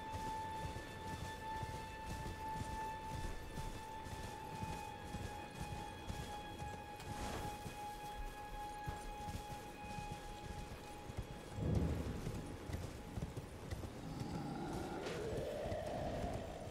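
Horse hooves gallop in steady clip-clop rhythm across open ground in the video game Elden Ring, with a game music drone underneath and a brief rushing swell near the end.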